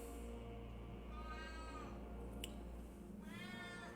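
A house cat meows several times in drawn-out, rising cries, close but fairly quiet over a steady background hum, with no talk.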